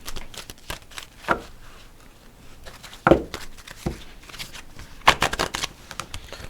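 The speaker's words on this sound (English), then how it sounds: "I'm going to kind of shuffle them again to pull the last remaining cards." Tarot cards riffle and slap together in several quick bursts, with soft handling and tapping between them, close up.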